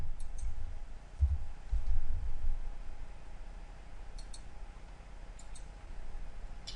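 Computer mouse clicks while working in SAP Web Dynpro software: a few soft, quick clicks near the start, then more sharp isolated ticks later over a low steady hum, with no talking.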